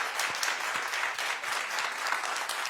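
A studio audience at a daytime talk show claps steadily throughout, a dense even patter of many hands with no voices over it.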